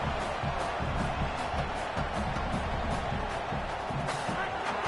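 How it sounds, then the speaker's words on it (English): A stadium crowd at a football game roars in a steady, dense wash of noise as the defense takes the field, with faint commentary beneath. "Listen to this crowd just shaking the girders of this place, trying to help their defense."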